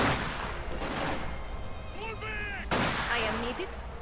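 Gunfire in a Company of Heroes 2 one-versus-one battle, with snipers and an advancing Panzer: sharp shot bursts and crackling fire over a constant rumble, mixed with whistling game effects and faint voices, moderately loud throughout.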